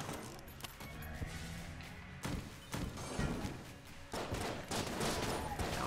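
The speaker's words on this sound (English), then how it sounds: "That was a bomb encased in ice." An ice-encased bomb going off in the dungeon-crawler shooter Enter the Gungeon, amid a clatter of rapid gunfire, thuds and crashes with sharp bursts in close succession, loud and chaotic without speech.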